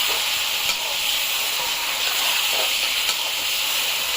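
Marinated meat sizzles in hot oil in a pan with fried potatoes, giving a loud, steady, bright hiss with small spitting crackles throughout.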